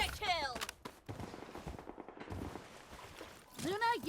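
Burst gunfire from a gun in the shooter game Blood Strike, rapid cracking shots in short volleys mixed with game effects, with a voice talking over parts of it.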